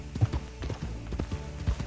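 Horse hooves clip-clop in the Red Dead Online video game, a quick run of uneven thudding hoofbeats, close and clear.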